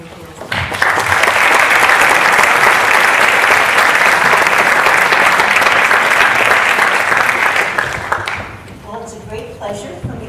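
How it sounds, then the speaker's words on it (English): A lecture audience breaks into warm applause that swells quickly, holds loud and full for several seconds, then fades, with a voice starting to speak as it dies away. "Let's give her a warm round of applause."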